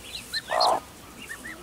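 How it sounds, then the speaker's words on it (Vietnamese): Newly hatched bantam chicks peep with thin, high chirps, several quick calls close by, with one louder cluck from an adult hen in the middle. "tiếng gà nở nè, mới nở được con nữa, nở có con rồi"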